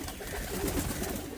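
A young Kaldoma Madrasi pigeon coos close by, a soft rolling coo that sits alone and steady through a short moment.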